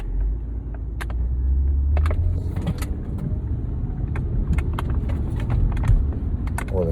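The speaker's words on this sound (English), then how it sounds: "Well, the car is driving fine." Car driving around the block, with a steady low engine and road rumble throughout, punctuated by faint clicks and rattles from inside the cabin; no talking.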